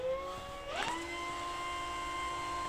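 Electric motor of an E-flite Draco 2.0 m RC plane spinning up, a steady tone that rises sharply in pitch around the one-second mark and then holds a higher whine, close and fairly clear against faint background hiss.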